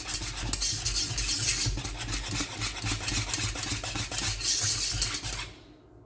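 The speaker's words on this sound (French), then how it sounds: "Continuer à mélanger." Steady scraping and swishing of a utensil stirring thick cream in a pan, continuous and close, ending in silence.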